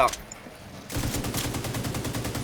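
Automatic gunfire aimed at a wild dog in The Division 2: a quiet moment, then a loud, rapid string of evenly paced shots that continues to the end, close and punchy.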